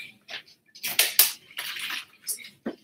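Water is poured in several short splashing bursts, close and fairly loud, with brief pauses between pours.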